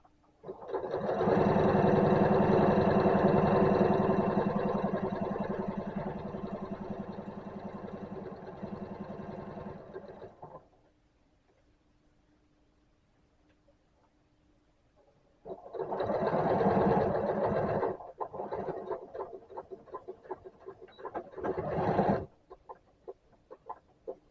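A sewing machine stitches in a long steady run, stops briefly, then whirs again in shorter bursts ending in a few quick clicks.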